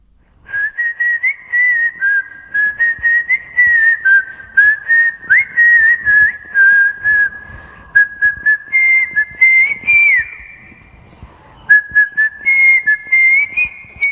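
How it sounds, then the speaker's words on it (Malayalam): A woman whistles a continuous melodic tune as an art form in Kayamkulam, Kerala, at a record-setting level. The clear, close whistle flows in phrased runs with short breaths and no talk. "ചൂളമടിയെ നേരം പോക്കും തമാശയുമാക്കാതെ ഒരു കലാരൂപമായി വികസിപ്പിച്ചാണ്"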